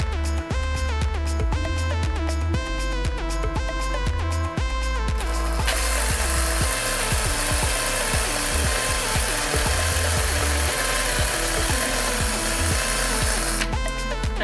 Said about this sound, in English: Now I'm just drilling a hole